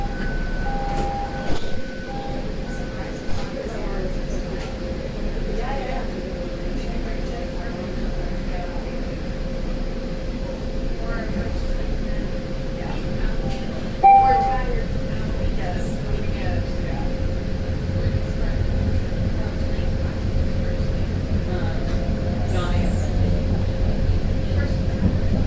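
A Boston Green Line subway train runs with a continuous low rumble and rattle of the car, and brief chimes and automated announcements are heard over the rolling noise.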